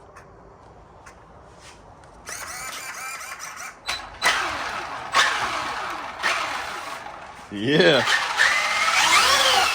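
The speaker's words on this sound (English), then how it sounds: "Start this bad boy up and see what it does." A Traxxas Maxx V2 RC monster truck powers up, its motor whining in repeated bursts with sharp rising and falling revs and some rattling, close and fairly loud, with a brief spoken word.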